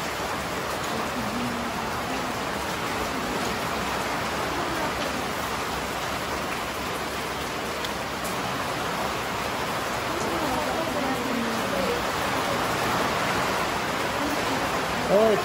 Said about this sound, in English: It's already raining. It's raining hard.